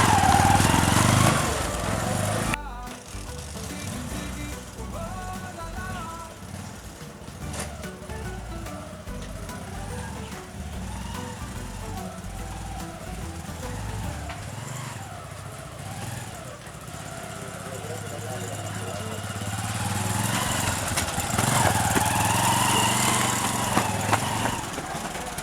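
Motorcycle engine running nearby, a continuous rough mechanical drone that starts loud, then sits steadily under occasional voices, swelling again toward the end.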